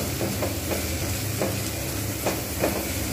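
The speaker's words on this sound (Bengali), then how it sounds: "ঠিক এইভাবে পেঁয়াজটাকে আমি কিন্তু একটু লালচে করে ভেজে নেব" Onions frying in a clay pot for a katla fish curry, a continuous sizzle with a spoon scraping and stirring in repeated bursts, up close, with no voices.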